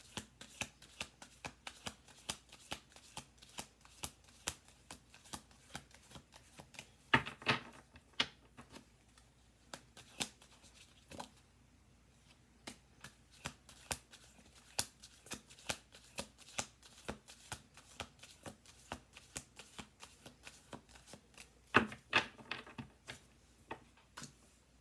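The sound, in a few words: playing cards being shuffled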